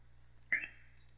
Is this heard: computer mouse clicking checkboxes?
yes